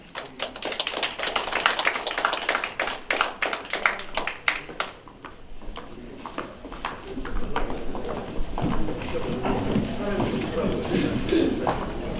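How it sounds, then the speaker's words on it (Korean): An audience applauds at a ceremony in Los Angeles marking the 44th anniversary of the May 18 Democratization Movement. The claps are sharp, scattered and uneven at first, then thicken into a busier wash of clapping with some voices underneath. "큰 박수로 청해 듣도록 하겠습니다"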